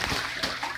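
A pet goose splashes in a bathtub, two quick close splashes of water in a short burst.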